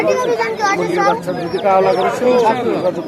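Two-day-old chicks peeping constantly in a crowded bird market at Savar, loud and close, with people talking over them.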